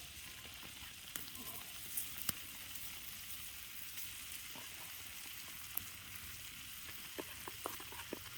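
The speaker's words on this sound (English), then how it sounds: "We're going to set all those in the pan and let them cook up." Beer-flavored bratwurst frying in a pan at a winter hot-tent camp on a snowy beach, giving a steady close sizzle with scattered small pops and crackles.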